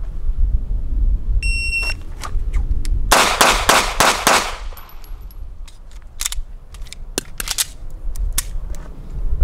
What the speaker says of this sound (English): we have five shots freestyle